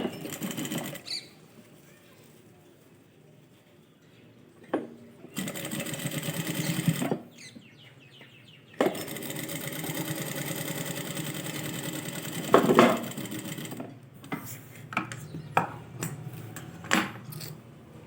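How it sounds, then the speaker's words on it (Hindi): A sewing machine stitches an invisible zipper onto a shaped belt, running in several short and longer bursts separated by pauses, with handling clicks and rustles in between. "ये एक साइड से इसे पकड़ के एक सिलाई लगा दो ऐसे"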